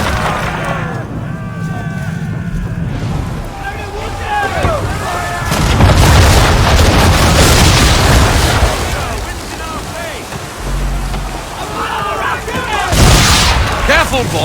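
Ship cannons firing chain shot during a naval battle in Assassin's Creed 3, booming volleys rolling under loud battle noise and voices, with a heavy blast near the end.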